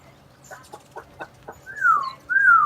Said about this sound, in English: I got a 10-second video of pure chaos at my bird feeder.